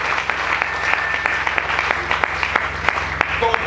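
A church congregation claps during a Sunday service, a dense, steady round of applause filling the room under a low hum, with scattered sharper claps standing out.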